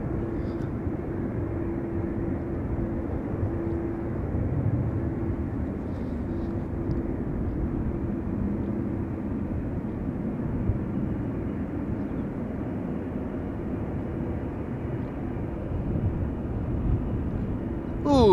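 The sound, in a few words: TUI Boeing Dreamliner airliner taxiing at Amsterdam Schiphol Airport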